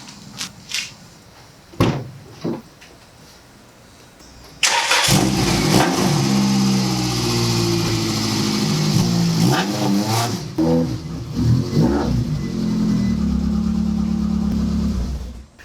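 After a few knocks and clunks, a loud, race-damaged Subaru rally car engine starts and revs repeatedly, rumbling close by with rising and falling pitch as it idles.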